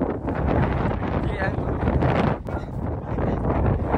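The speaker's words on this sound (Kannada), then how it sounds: "ಒಂದೊಂದು ಗಟ್ಟಿ ಗಾಳಿ ಹೊತ್ಕೊಂಡು ಎಲ್ಲ ಹೊತ್ತು" Strong wind roars and buffets the microphone on a mountain trek at Gangadikal, a dense rumbling gust that barely lets up, with voices faintly mixed in.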